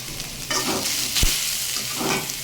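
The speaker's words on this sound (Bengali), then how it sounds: "এভাবে নারকেলটাকে আমাকে ভাজতে হবে।" Grated coconut frying in hot oil in a pan, a steady, fairly close sizzle with stirring throughout and one sharp utensil knock midway.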